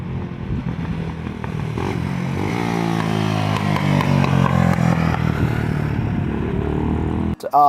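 Motorcycle with a one-off custom exhaust, engine running steadily up close with a throaty layered drone that swells in the middle, then cuts off sharply near the end.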